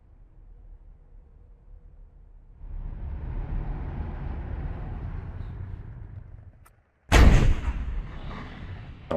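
Milan anti-tank missile launchers fire in the WARNO wargame: a sustained rumbling roar for several seconds, a brief drop, then a sharp loud blast with a bright crackling tail, no talking.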